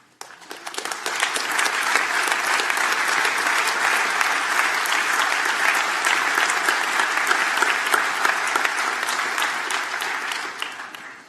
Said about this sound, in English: So if you could give her a applause.